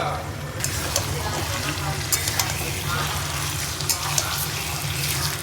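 Chicken sautéing in hot oil in a pan for a spicy oily dish, a steady sizzle and fry noise with faint stirring scrapes and brief clinks over a low hum, close and continuous.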